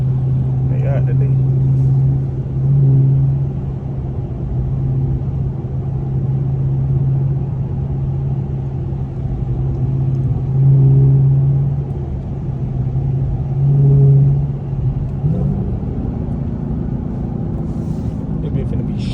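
A 2023 Dodge Charger Hellcat with a mid muffler delete exhaust rumbles steadily and loudly nearby, its deep idle drone swelling in a few brief surges, while people talk over it.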